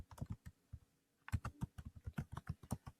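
Fast typing on a computer keyboard while entering spreadsheet cells: a quick burst of key clicks, then a short pause, then a steady rapid run of close, crisp keystrokes with no talk.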